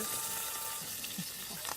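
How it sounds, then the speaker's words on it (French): Guinea fowl ballotines browning in butter and olive oil in a pan, a steady close hiss of frying with small crackles and spatters throughout. "Il faut dire que dès qu'on met un morceau de beurre et que ça grésille"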